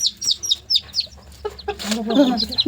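A hen clucks close by among the high peeping of her chicks, with short chirps scattered throughout, scuffling movement and a brief burst of agitated clucking near the end.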